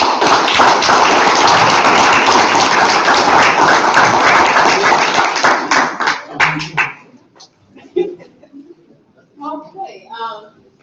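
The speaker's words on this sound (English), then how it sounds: "let's give our interim chancellor another round of applause." Audience applause at a campus State of the Campus address, dense sustained clapping from a large crowd that fades out after about six seconds, leaving scattered claps and brief talk.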